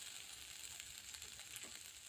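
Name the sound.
paneer tikka pieces roasting in a pan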